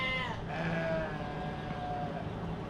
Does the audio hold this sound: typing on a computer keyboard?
no